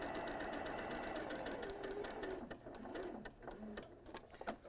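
A sewing machine stitches a quilt block in a rapid, even mechanical whir, running steadily close by, then slowing into a few short bursts of separate stitches toward the end.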